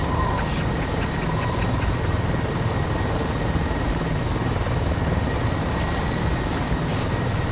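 Military helicopters in the ArmA 2 video game drone with a steady, loud rotor and turbine roar that persists throughout, with faint chirping tones near the start and brief high clicks later.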